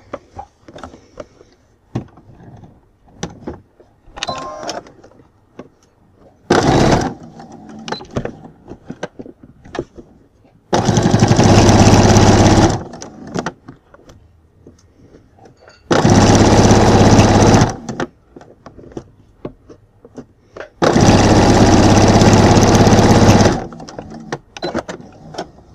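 A sewing machine stitches bias binding onto fabric in three loud, steady whirring bursts of a couple of seconds each, separated by quieter handling noises and rustling of the cloth.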